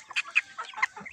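A two-month-old Livensky marble cockerel gives a quick run of short, close clucks in about a second.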